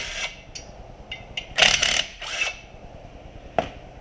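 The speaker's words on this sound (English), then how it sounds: "socket, run them in, and it'll press on the hub, pull the rotor right out." A ratchet with a 1/2 inch socket runs bolts in to press a rotor off the hub of a 2020 Subaru during a rear brake job, giving several quick clicking bursts with short gaps between them, close and fairly quiet.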